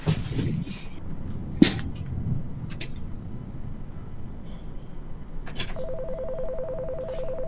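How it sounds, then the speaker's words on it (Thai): A telephone rings inside a house in the horror game They Look Like Us, a steady repeating electronic ring setting in near the end, with scattered footsteps and knocks before it. "มีโทรศัพท์เข้ามา"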